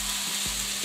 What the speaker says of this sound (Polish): Smażymy około 2 minuty i za chwilę będziemy dodawać pieczarki.